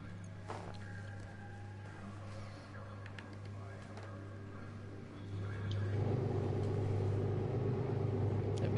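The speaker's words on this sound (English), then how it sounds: "go out on track myself and wind up the Zonda for some shenanigans" Pagani Zonda engine on the track at Goodwood Speedweek, a steady low rumbling drone that swells noticeably louder and rougher toward the end.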